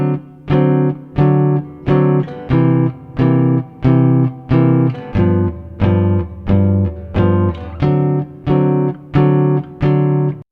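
Guitar strums the closing four bars of a blues, about fourteen short, evenly spaced chords in a steady swinging rhythm, clear and close with no voices.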